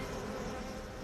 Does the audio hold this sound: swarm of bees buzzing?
yes